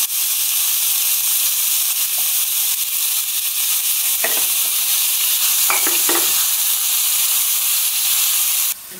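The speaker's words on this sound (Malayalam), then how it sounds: "ഇപ്പം നമ്മൾ സവാളയും ഉള്ളിയൊക്കെ ഇട്ടത് നന്നായി വഴന്നു വന്നിട്ടുണ്ട്." Onions and shallots sautéing with salt in oil for a turkey curry sizzle in a loud, steady hiss, broken by a few scraping stirs of a spoon before the sound cuts off.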